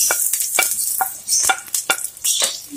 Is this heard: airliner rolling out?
no